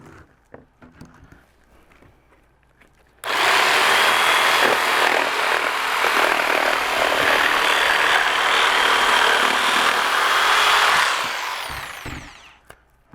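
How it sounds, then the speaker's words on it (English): Hand saw cutting along a marked line on a custom back brace lateral held against a table, a steady continuous rasping stroke running about eight seconds at close range before tapering off, no talk over it. "Now I'm just going to do the same method, cut along this line with the saw, holding it up against the table."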